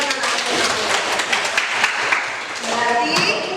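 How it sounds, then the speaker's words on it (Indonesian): A classroom of students claps at a teacher's prompt during an Indonesian religious education lesson, producing uneven, close clapping mixed with children's voices and chatter. "Kasih tepuk tangan."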